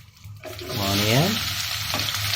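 Onion dropped with bay leaf and cumin seed into about a tablespoon of hot oil, a sudden steady sizzle that starts after a short pause and carries on close and loud to the end, with a brief stirring sound near the start.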